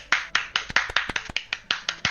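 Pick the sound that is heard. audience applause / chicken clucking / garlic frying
audience applause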